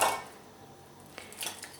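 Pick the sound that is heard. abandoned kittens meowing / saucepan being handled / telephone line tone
saucepan being handled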